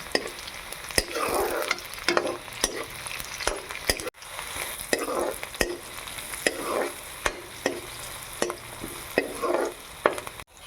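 Onion, garlic and ginger fry in mustard oil in a wok, giving a continuous close sizzle broken by regular sharp scrapes and taps of a stirring spatula every second or so.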